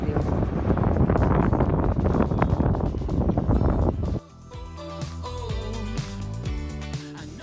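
Strong wind buffets the microphone on an anchored sailboat in Greece, a loud roaring rumble for about four seconds before dropping to a lighter gusting hiss with faint tonal background sounds.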